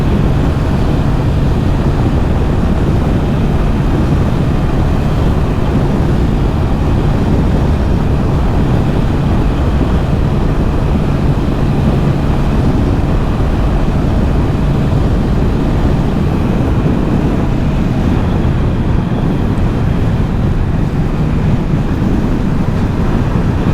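A Bajaj Pulsar P150 motorcycle running at top speed in fourth gear, heard as a loud, constant roar of engine and rushing wind that masks everything else for the whole stretch, with no gear changes.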